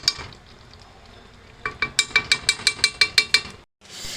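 Butter sizzles in a pan while butter chicken cooks, a soft frying hiss that gives way to a quick, regular run of about ten sharp metallic clinks from a spoon against the pan, then a short silence.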